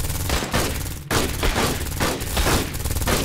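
Dense, continuous automatic gunfire in Aliens: Dark Descent, several weapons firing at once in loud, overlapping bursts with almost no pause.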